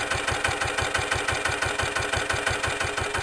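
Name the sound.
Lister LT1 diesel stationary engine idling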